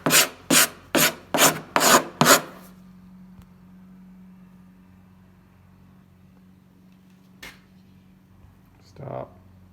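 Someone hand-sands body filler on a 1950 Plymouth, making six quick, evenly spaced rasping strokes close to the microphone. A quiet low hum follows, with an occasional faint click or scrape.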